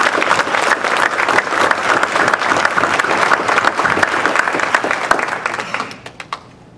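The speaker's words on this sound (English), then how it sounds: "give a large round of applause for all our volunteers" A room full of people applauds loudly and steadily, then the clapping thins out and fades to a few last claps.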